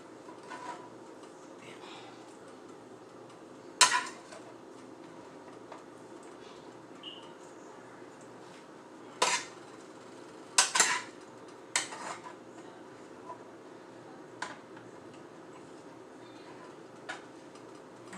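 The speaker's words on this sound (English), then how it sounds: "I'm going to use both of my spoons so I can scoop" Metal spoons clink and scrape against a pot while scooping shrimp pasta, a few sharp isolated knocks spaced out over quiet kitchen background.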